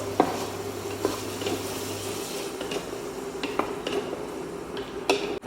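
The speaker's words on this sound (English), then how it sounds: "Medium-sized tomatoes, saute it till the raw smell goes." Medium-sized tomatoes sauteing in a pan, a low steady sizzle with scattered clinks and scrapes of a utensil stirring against the pan, close and alone without talk.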